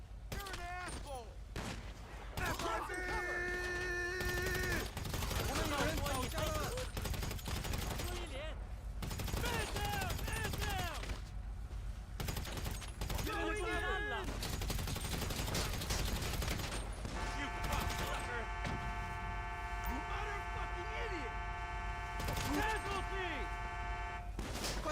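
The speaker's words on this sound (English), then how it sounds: "You about to get into a firefight with the IAA and the Triads." A chaotic firefight against IAA and Triad gangsters in The Outer Worlds, with continuous overlapping gunshots and bursts throughout, plus shouting voices and game music tones mixed in.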